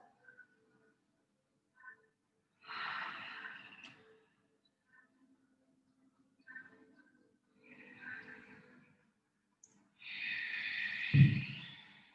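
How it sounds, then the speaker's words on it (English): Slow ujjayi breaths during a vinyasa yoga flow, three or four long, hissing ocean-like exhales spaced a few seconds apart, close and quiet, with a stronger final exhale. "Still using that ujjayi breathing"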